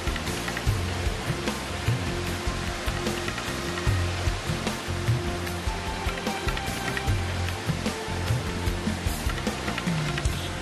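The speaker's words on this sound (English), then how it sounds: "I spotted this lovely fountain or waterfall, whatever you want to call it" A man-made fountain waterfall near an airport gives off a continuous, loud splashing rush of falling water, broadband and steady, with small irregular spatters throughout.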